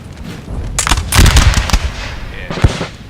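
Musket volley fire from Brunswick infantry in the strategy game Napoleon Total War: a ragged crackle of many shots building to a dense burst in the middle, then a sharp single crack near the end.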